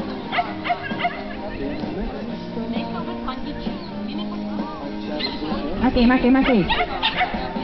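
A terrier barks and yips repeatedly during a dog agility jumping run, sharp short barks scattered throughout and a louder flurry near the end, heard under frequent talking from the handler and people nearby.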